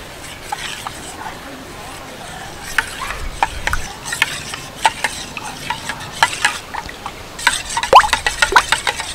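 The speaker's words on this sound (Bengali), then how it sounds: "ভালো করে মিশিয়ে নেব।" Raw mango puree is stirred into water, a close run of wet sloshing, clinking and plopping strokes that grow busier toward the end.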